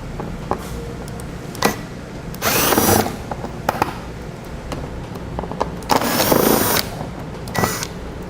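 A power tool drives out 7mm screws on a 2015 Ford Fiesta, with two longer whirring bursts among shorter clicks and ratcheting taps, close and fairly loud against steady workshop background noise.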